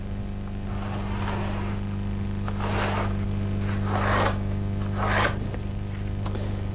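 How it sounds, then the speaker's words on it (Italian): A handsaw cutting through a sheet of plasterboard, three rough rasping strokes swelling and fading over a steady low machine hum. "Il cartongesso si può tagliare comodamente con una qualsiasi sega."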